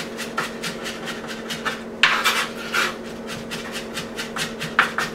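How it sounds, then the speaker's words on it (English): Minced onion being worked in a pot, a repeated soft scraping and rubbing rhythm with a few sharper utensil scrapes against the pot, close up over a steady low hum. "I'm actually listening for the sound that the onion makes when it's completely minced."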